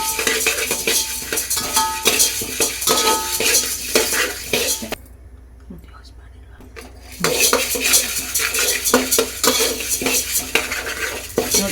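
Sambar powder spices are dry-roasted in a large vessel while a spoon scrapes and stirs in close, busy bursts. A quiet pause falls in the middle before the clatter resumes, and no one talks.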